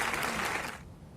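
Audience applause welcoming a speaker at an institute lecture hall, a brief burst of dense clapping that cuts off abruptly near the end.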